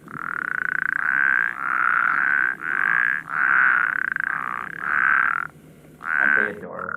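Spadefoot toad calling in a loud, close series of drawn-out nasal bleats, each lasting about half a second to a second, repeated in quick succession with brief gaps and no voices.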